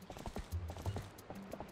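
Horse hoofbeats in The Legend of Zelda: Twilight Princess: a steady clip-clop gallop of in-game hooves, moderately loud and up close, with a low rumble beneath the rhythmic strikes.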